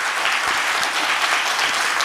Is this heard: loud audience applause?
yes